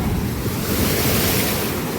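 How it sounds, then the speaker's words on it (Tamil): Strong sea waves crash onto the shore in a continuous, loud roar mixed with heavy wind noise, with no voices. "கடல் செமையாக அடிக்குது அந்த இடத்துல"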